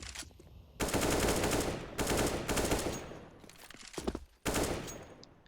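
Rapid automatic gunfire in a competitive shooter match, bursting in long loud sustained volleys with brief gaps between them and no voice over them.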